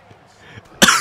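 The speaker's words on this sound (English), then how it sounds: "I've been coughing all morning." A single sharp, loud cough breaks out near the end after a short stretch of quiet room noise, heard up close with no talk over it.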